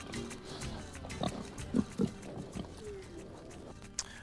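A black Iberian pig near Jabugo in the Andalusian mountains gives several short, soft grunts over a quiet outdoor background, with two clearer grunts close together midway.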